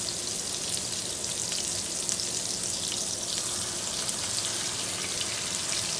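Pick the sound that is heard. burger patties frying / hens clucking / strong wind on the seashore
burger patties frying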